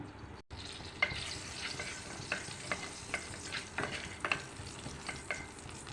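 Whole cumin seeds sizzle in hot oil, tempering for a pumpkin curry, with a steady close hiss dotted with sharp pops and crackles, and no talking.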